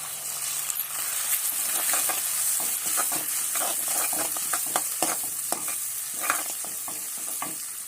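Chicken curry masala with coriander sautés in oil in a continuous close sizzle, broken by frequent scraping and clinking stirs of a spoon against the pan. There is no talk.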